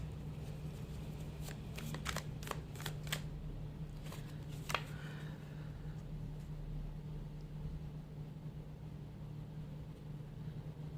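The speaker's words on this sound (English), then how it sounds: "Let me shuffle and see something in romance." Tarot reading cards being shuffled by hand in a quiet room, a burst of quick crisp riffles and taps clustered early on, then faint low hum for the rest.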